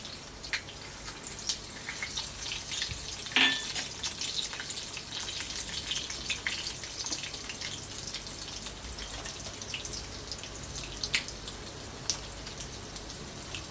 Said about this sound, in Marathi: ठेचलेला लसूण एक दोन मिनटासाठी आपल्याला फ्राय करून घ्यायचं आहे तेलामध्ये